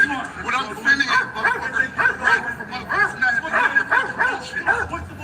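A dog barks and yips repeatedly at a street protest outside a Church of Scientology site, heard under constant overlapping shouting and talk in a loud outdoor crowd.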